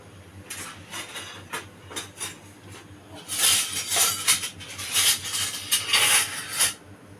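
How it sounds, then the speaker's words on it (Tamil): Urad dal dry-roasting in a bare hot kadai, grains scraped and stirred in irregular gritty bursts that grow louder and denser partway through, with no voices. "பருப்பு நல்லா பொன்னிறமாக வறுத்துக்கலாம் வெறும் கடாயில்"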